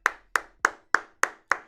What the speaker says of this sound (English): Clap it up for Dwight Powell.